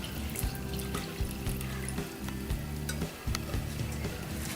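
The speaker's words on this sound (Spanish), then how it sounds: "Le voy a entonces a vertir la leche." A liter of milk poured onto cooked rice in a hot pot for creamy rice pudding, a steady close liquid gush with sizzling and bubbling underneath.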